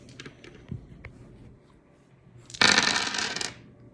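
Dice in the Qwixx board game, a burst of clattering lasting about a second after soft taps and handling noises at a table.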